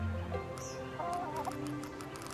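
A chicken in the video game Egging On clucks and warbles in short calls over a steady low background hum, with no speech.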